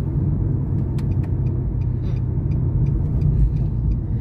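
A car driven by a beginner on a main road during a first driving lesson brakes and slows, with a steady low engine and road rumble and a few faint clicks throughout.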